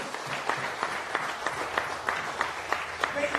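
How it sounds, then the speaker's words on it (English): Crowd applause for high school draftees at a fantasy draft event, a steady wash of clapping with sharper individual claps standing out near the front, and voices murmuring underneath throughout. "Let's give all the draftees one big round of applause."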